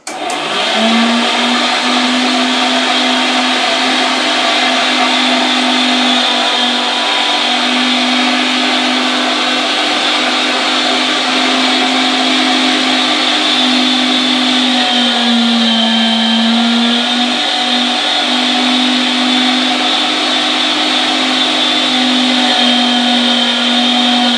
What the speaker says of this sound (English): Gonna take me a little bit here to get all this ground up.